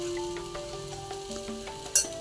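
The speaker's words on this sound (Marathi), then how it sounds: "मसाले आता आपण परतून घेऊ।" Spices for palak paneer, including turmeric, red chili powder and garam masala, sizzling in a hot pan as they are stirred, a soft steady frying hiss with light scraping and one sharper clink near the end.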